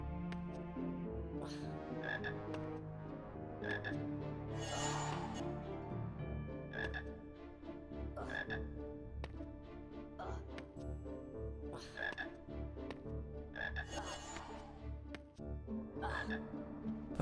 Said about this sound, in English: I need to get back up there for the frog anyways.